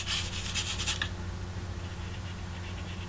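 A paintbrush scrubs watercolor paint on paper in a quick burst of close, scratchy rubbing strokes, then fades to a low background hum.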